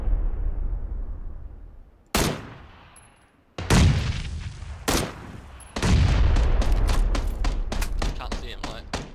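Gunfire in PlayerUnknown's Battlegrounds: loud bursts of shots with short gaps, then a fast run of rapid cracks near the end, with voices talking over the firing.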